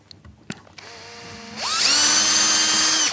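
A power drill fitted with a small bit spins up and drills a pilot hole in wood, its motor whine climbing in pitch and then holding loud and steady, after a few light clicks.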